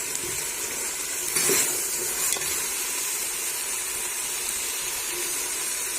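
Butter goes into whole masoor dal frying in a pan, bringing a steady broad sizzle with a short burst of stirring scrapes partway through, close and without talk.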